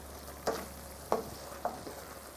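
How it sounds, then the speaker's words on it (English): Okra and orange-fleshed sweet potato being stirred into a sizzling masala mixture: three separate scraping strokes over a steady low fry hiss, fairly quiet and without speech. "Just stir it into the masala mixture so that it becomes part"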